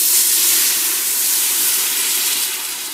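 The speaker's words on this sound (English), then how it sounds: "And now I'm going to add my beef stock." Beef stock poured into a hot pot of vegetable soup gives a loud, steady steaming sizzle, a bright broadband hiss that holds for the whole moment and eases slightly at the end.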